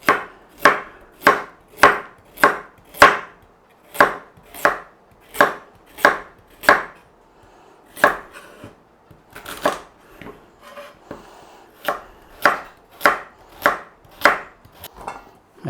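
A knife chops scrubbed, skin-on carrots into slices on a board, about twenty crisp, evenly spaced close strokes with a short pause and a looser patch midway before the steady rhythm resumes.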